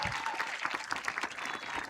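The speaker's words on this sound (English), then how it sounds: "let's give a round of applause for that." Dense, continuous applause from a large crowd at a high school graduation ceremony, a steady roar of many hands clapping together, heard from a distance and fairly soft.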